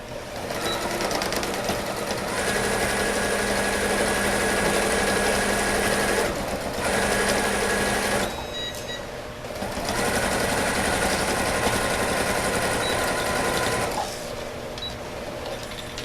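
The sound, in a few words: sewing machine stitching a kitchen organizer pocket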